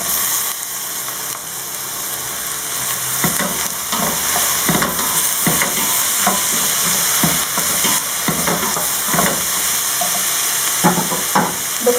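Two small aubergines, diced into small cubes, frying in a pan for a minced-meat lasagne, giving a steady close sizzle broken by repeated scraping stirs, with no talking.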